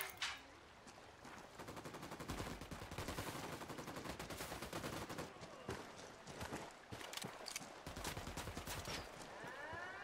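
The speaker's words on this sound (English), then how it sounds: "Opening fire." Sustained automatic gunfire in the tactical shooter Ghost Recon Wildlands, rapid sharp bursts crackling almost continuously with short gaps, fairly close and loud, no voices.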